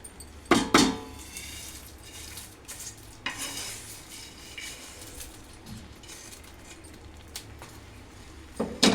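Tempering poured into cooked rice and dal pongal in a kadai and stirred in, with sharp scraping clanks of a spoon against the pan at the start and end over a low sizzle.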